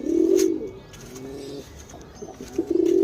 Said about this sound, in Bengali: তো গাইস এবার আমি দেখাই আমাদের পায়রা। কত পায়রা